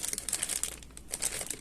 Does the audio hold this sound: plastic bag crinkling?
yes